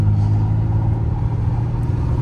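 A BMW car climbs a steep snowy slope, its engine a steady loud low rumble with a slight rise in effort, heard close and continuous without voices.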